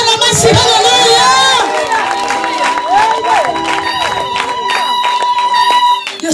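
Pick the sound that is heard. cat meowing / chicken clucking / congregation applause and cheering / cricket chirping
congregation applause and cheering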